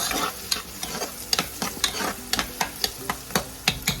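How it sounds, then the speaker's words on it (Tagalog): Garlic and onion fry in a pan for a chicken adobo made without soy sauce, with a soft sizzle under sharp, regular scraping strokes of a spatula that repeat about twice a second, close up and with no talking. "Niluluto natin ang bawang at sibuyas."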